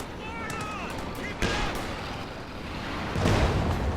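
Infantry support gun shells fired and landing during a Company of Heroes 2 1v1 match, a few sharp impacts and booming bursts over steady battlefield noise, with someone talking throughout.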